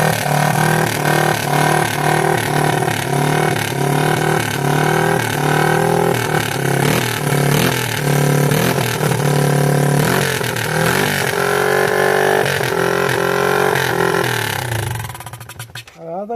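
Engine of a 1986 Yamaha YFM Moto4 200 ATV running loudly up close, revving up and down in repeated pulses with a rough, buzzing tone before cutting off at the end.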